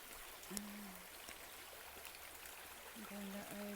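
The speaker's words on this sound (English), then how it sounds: "look, the water's running over it" Creek water runs over a hiking trail near a shelter in the North Carolina mountains, a steady broadband wash of flowing water that continues throughout, with brief voiced sounds over it at moments.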